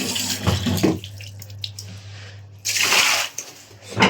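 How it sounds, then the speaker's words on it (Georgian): Tap water running into a sink in a morning kitchen, a gushing splash that starts, thins to a trickle and surges again in bursts, with a constant low hum underneath. "ჯერ ვერ ავავსებ დასალევ წყალს, იმიტომ რომ ცოტა მღრიე მოდის"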